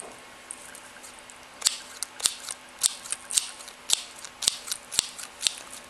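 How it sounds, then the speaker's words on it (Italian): Close, crisp scissor snips as part of an ASMR trigger session: about a dozen sharp cuts in an uneven rhythm over a quiet background, with no talking. "Mi piace anche tanto il suono delle forbici."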